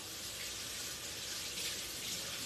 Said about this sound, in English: Let me wash my hands.